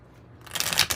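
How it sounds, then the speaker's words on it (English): A tarot deck is shuffled close by in one quick, crisp riffle of cards that starts halfway through the moment and rises in loudness. "Let me give it a little shuffle real quick."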